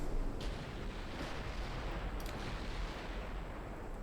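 Naval guns firing during battle in the DIP v2 Imperial Austrian campaign, a continuous heavy rumbling barrage with a few sharper reports near the start and middle, steady and dense throughout.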